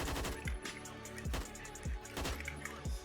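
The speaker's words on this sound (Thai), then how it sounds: "เดี๋ยวผมจะยิงตัวนี้ให้ดู" An AUG A1 rifle fires in the shooter game Phantom Forces: repeated bursts of sharp shots with quick decaying tails, over a steady tonal background that runs throughout.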